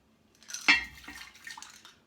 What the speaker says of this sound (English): I'm gonna fill my little pot.